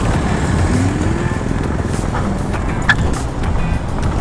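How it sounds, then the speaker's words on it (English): Ultron T128 dual-motor electric scooter with 3.6 kilowatt motors pulling away hard, a steady loud rush of wind and road rumble close to the rider, with no clear talk. "Amazing torque there. Dual motors."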